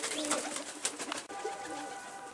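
Pigeons coo in a loft where racing birds are being brought down, several soft calls recurring close by over steady background noise, with no talk.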